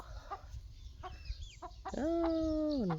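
Soft scattered clucks from backyard hens, then a loud, drawn-out rooster crow close by, in an otherwise quiet outdoor setting.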